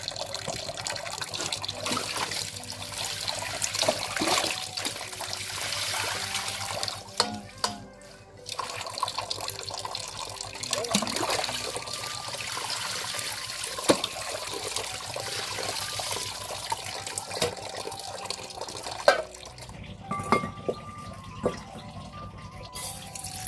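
Food ingredients are washed under running kitchen tap water, with continuous splashing, trickling and dripping up close, plus occasional clatters and knocks.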